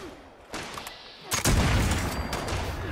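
Rifle fire in Fallout 76 during online player-versus-player combat: a few sharp, loud gunshot bursts, the last one heavy and booming, with a brief stretch of lingering noise afterward.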